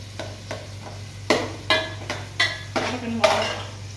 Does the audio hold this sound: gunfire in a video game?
no